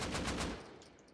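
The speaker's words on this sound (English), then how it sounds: "Okay, you can clearly see the shots." In the Rust video game, rapid gunfire hits a chain link fence: a quick burst of several evenly spaced shots that stops after about half a second, followed by faint metallic ringing trails.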